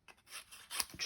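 Paper punch working through cardstock while making a strawberry-themed greeting card, giving a few brief crisp rustling scrapes and a sharp snap-like crunch near the end, close and fairly quiet.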